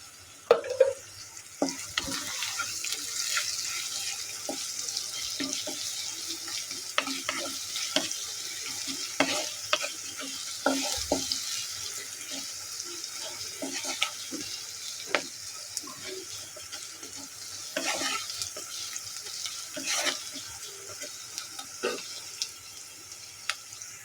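Onions fry to near-crisp golden brown in a pan for a dried fish and taro stolon dish, giving a steady close sizzle with frequent stirring clicks and scrapes, no voices.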